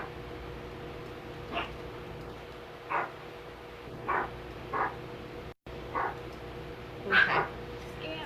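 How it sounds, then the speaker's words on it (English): Several short, fairly faint dog barks and yips come at irregular intervals over a quiet background hum. "And the dog decides to bark."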